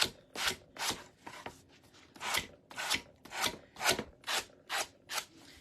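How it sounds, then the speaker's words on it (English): Rough cut edges of a Dollar Tree glass mason jar being smoothed by hand, a loud rasping scrape repeated in about ten steady back-and-forth strokes, close and alone with no talk. "Now let me smooth out these edges. I know it's so loud, y'all."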